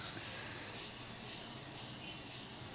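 A hand rubs and smooths down a cold foil sticker, giving a soft, steady, close-up swishing friction sound with gentle rhythmic strokes and no voices.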